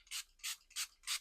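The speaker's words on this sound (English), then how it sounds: "So now I'm going to go on and spray" Four evenly spaced, crisp hissing bursts from a spray bottle misting fabric, each short and close, with quiet pauses between them.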